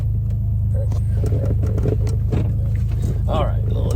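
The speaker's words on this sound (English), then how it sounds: "Really love the way the car rides there." A 1982 DeLorean DMC-12 on the move with working gears, clutch and brakes, its engine a steady low drone and road rumble heard from inside the car, with some faint cabin noises over it.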